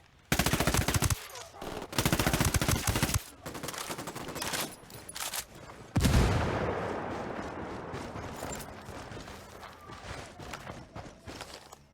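Bursts of automatic gunfire rattle in the Ghost Recon Wildlands shooter game, several loud sustained volleys followed by a heavy grenade-like blast that fades into rumbling decay.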